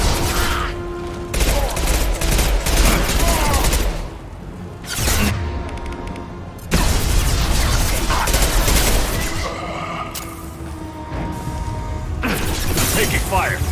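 Gunfire and impacts in a Mass Effect 2 combat firefight, dense overlapping shots and mechanical clatter under game music and intermittent voices, with brief lulls between loud bursts.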